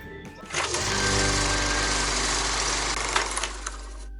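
A Chery Tiggo Cross 1.5-litre turbocharged four-cylinder engine with a six-speed DCT rises within the first second to a steady, even drone and holds it throughout, close and fairly loud.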